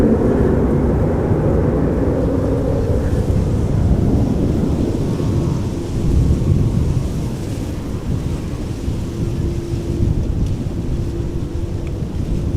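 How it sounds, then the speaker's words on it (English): An SAS Embraer 195 jet airliner departs Amsterdam Schiphol with a deep, sustained roaring rumble that stays loud and steady throughout, with wind buffeting the microphone. "SAS Embraer 195"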